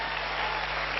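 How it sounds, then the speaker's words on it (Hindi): An audience claps for a company at a motivational gathering, a dense and even wash of applause lasting about a second, loud and close, with no voice over it. "सबसे पहले तो कंपनी के लिए सबसे जबरदस्त वाली ताली बनती है भाई"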